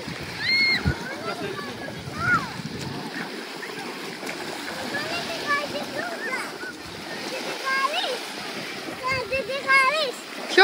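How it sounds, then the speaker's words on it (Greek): A family wades and jumps into cold sea water at Nea Kallikrateia in Halkidiki for the first swim of the year, with splashes and sloshing under near, busy chatter and children's voices. "είμαστε έτοιμοι να κάνουμε την πρώτη μας βουτιά"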